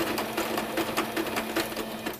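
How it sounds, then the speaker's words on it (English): A sewing machine back stitching fabric for a rat corner hut hammock, a continuous close, steady mechanical whir with even rhythmic needle clicks throughout. "And then so that cut doesn't come undone, you're going to back stitch."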